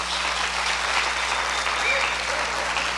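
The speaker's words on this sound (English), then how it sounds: "let's give a round of applause for the classified employees of Siskiyous" At a classified appreciation concert at College of the Siskiyous, a crowd gives a round of applause for the classified employees, steady and dense clapping with faint voices mixed in beneath it.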